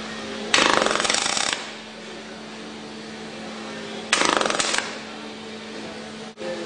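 Telwin MIG welder tack welding a car quarter panel, two harsh crackling bursts of about a second each separated by a few seconds of quiet hum, close and loud.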